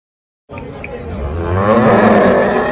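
A cow lets out one long, loud moo that starts abruptly and swells toward the end, close by, at a cattle market in Chalisgaon.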